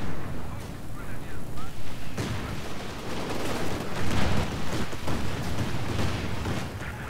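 Land Mattress rocket artillery fires in Company of Heroes 2, a string of rapid, rhythmic launch thumps followed by a dense rumble of blasts and gunfire, loud and continuous across the battlefield.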